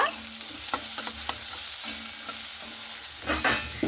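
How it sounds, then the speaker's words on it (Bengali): Onions and slit green chillies fry in oil in a pan, giving a dense, continuous sizzle close by, broken by stirring scrapes and a louder burst near the end. No voices. "এরপরে পেঁয়াজ আর লঙ্কাগুলোকে খুব ভালো মতো করে এভাবে ভেজে নেব।"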